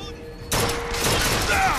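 Sudden loud burst of gunfire in the video game Bioshock 2, a dense sustained volley erupting after a brief quieter moment with a faint tone, continuing to the end.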